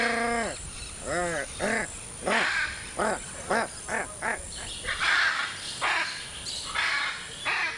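Hyacinth macaw, the world's largest parrot, calling in the Brazilian Pantanal: a series of harsh, rasping squawks repeated in uneven bursts, fairly close, with other birds and ambient wildlife around.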